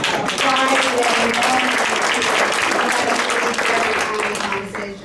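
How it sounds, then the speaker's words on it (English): A conference audience applauds with dense, sustained clapping, loud and close, while a voice speaks over it before the applause fades. "give yourselves a round of applause for showing up on a Friday"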